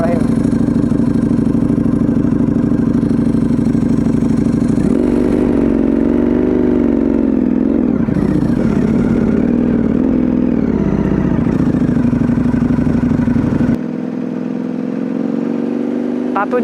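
Superbike motorcycle engine starting and idling loud and close, then revving with rising and falling pitch before settling back to a steadier idle.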